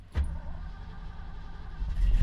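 A Ford Mustang's engine fires up with a sharp burst, then settles into a low, close rumbling idle that swells again near the end.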